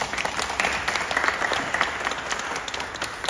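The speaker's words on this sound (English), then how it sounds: "Give the guys a clap." An audience at a church Bible session claps throughout, a close, busy patter of many hands at steady volume for a few seconds.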